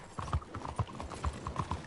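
Horse hooves clip-clopping in Red Dead Redemption 2 Online, a steady walking rhythm of soft, fairly quiet hoof strikes repeating about twice a second.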